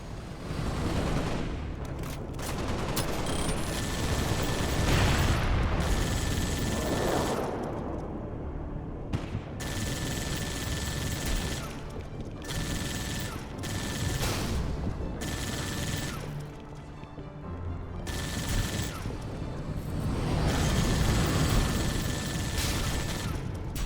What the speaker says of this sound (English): Get on that machine gun, Spartan.